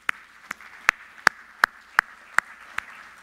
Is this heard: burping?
no